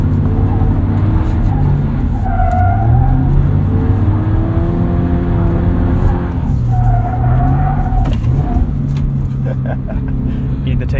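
A 2022 Subaru BRZ slides on a dirt rally track after a clutch kick, its engine droning loudly and continuously at close range from inside the car, with the pitch dipping and rising through the slide and tyres scrabbling over loose dirt.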